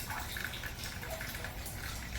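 Rainwater trickles into a rain collection tote with the lid off during light rain, a steady close wash of running water with faint splashing that holds at an even level throughout.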